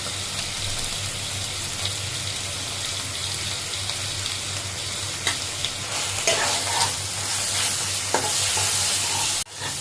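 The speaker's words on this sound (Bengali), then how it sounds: "বেশ মশলাটা বেশ ভাজা ভাজা হয়ে গেল, তেল ওপর দিয়ে ছেড়ে দিল" Spices and cumin fry in oil in a pan for a curd fish curry, a steady close sizzle with occasional stirring scrapes and a brief clatter at the end, no voices.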